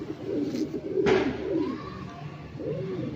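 Lokhande pigeons coo in low, rolling calls that repeat through the stretch, with a brief brighter flutter or wing sound near the middle, close and moderately loud.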